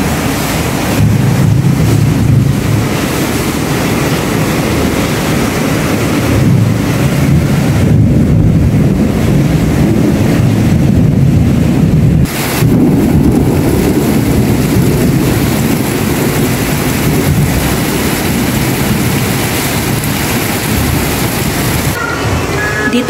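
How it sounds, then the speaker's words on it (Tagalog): Heavy evening rain with thunder and wind, heard as a loud, continuous wash of noise with a deep low rumble running through it and no voices. "Malakas po ang ulan. May kasamang kulog at kidlat."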